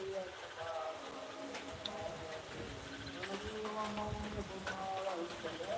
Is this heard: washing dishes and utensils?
no